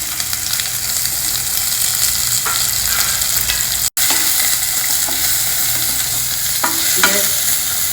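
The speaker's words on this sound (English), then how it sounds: "Just lightly fry this." Chopped onion and ginger fry in oil with hing and a dry chili, giving a steady, loud sizzle with occasional stirring scrapes and clinks from a spoon in the pan.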